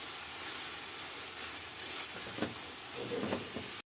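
Steady broadband sizzle of liver frying in a hot pan, with a few brief louder crackles and spatters toward the end, close and continuous.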